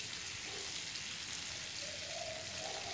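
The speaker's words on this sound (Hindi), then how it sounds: "हम जलपाई को अच्छे से भूनेंगे मसाले के साथ" Olives sizzle in hot oil with crushed spices, salt and turmeric in a pan for a pickle, a steady soft hiss of frying that holds evenly from start to end at low level, with no voices.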